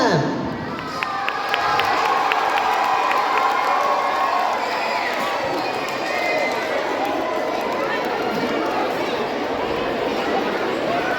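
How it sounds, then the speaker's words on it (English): A school crowd at a Magh Bihu celebration cheers, shouts and claps as children's eco-themed dance performers come on stage, a dense, loud, steady wash of voices and applause filling the whole stretch without a break. "With a great round of applause,"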